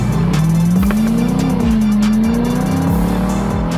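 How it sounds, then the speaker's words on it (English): A Lexus IS launches hard on a bumpy, winding road, its engine note climbing steadily through a loud, continuous rev as the car accelerates, with a brief gear change partway through and no talking. "Really quick acceleration and smooth, man."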